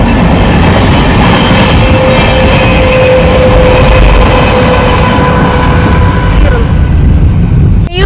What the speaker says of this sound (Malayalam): ബിഗ് ട്രെയിൻ അല്ലേ?